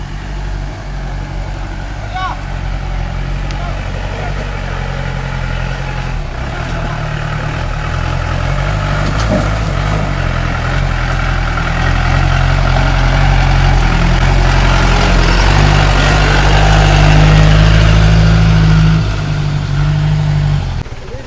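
A Mahindra 4x4 jeep engine labours up a steep, rocky off-road track through cardamom plantation hills, a heavy, low, continuous drone that swells louder toward the end, with someone talking over it.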